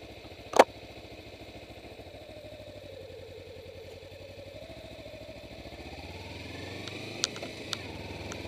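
A Kawasaki Ninja 250R motorcycle engine idles steadily with a low, even putter, gradually growing a little louder, with a sharp click near the start and faint clinks later.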